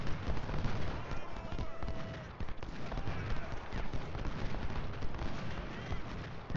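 Artillery fire in Ultimate General Civil War, a steady wash of distant cannon and musket fire with rumbling battle noise beneath, fairly faint, while someone talks over it.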